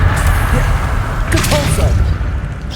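Spell effects from the Hogwarts Legacy video game, a Depulso blast and a Levioso lift, burst out in quick succession over a steady rumbling game backdrop, with swooshing magical zaps near the middle.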